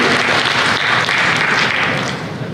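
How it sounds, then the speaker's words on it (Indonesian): Dense applause from the audience at a bank's 2023 economic outlook event greets the invited guests, loud and continuous throughout, fading slightly toward the end. "boleh kita berikan tepuk tangan sekali lagi untuk para tamu undangan yang sudah hadir"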